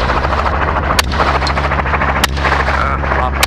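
Gunfire from a helicopter during an aerial hog hunt: sharp, loud shots ring out a few times over the constant heavy thump and whine of the rotor and engine.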